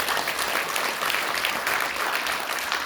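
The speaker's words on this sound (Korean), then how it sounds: "여러분들 박수 부탁드리겠습니다" Audience applause at a political party launch event, a dense, continuous wash of clapping from a crowd, held steady for a few seconds without speech.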